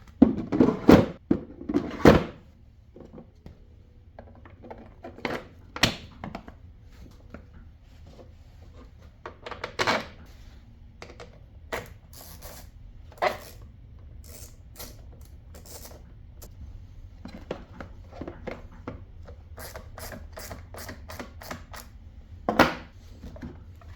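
Lithium batteries go into a battery box on a Jeep Renegade with a HEMI swap, with scattered hard thunks, clacks and creaks, louder near the start and end, between quieter handling noises in a quiet garage. No one speaks.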